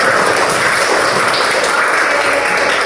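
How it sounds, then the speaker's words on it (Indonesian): Classroom of students clapping for a classmate after a story reading, a loud, dense and continuous roar of hands held steady throughout. "Tepuk tangan dulu semuanya"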